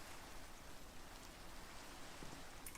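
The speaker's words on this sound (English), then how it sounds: "And it's raining." Steady rain falling in a video game, a soft, even hiss of drops that stays faint and unbroken throughout.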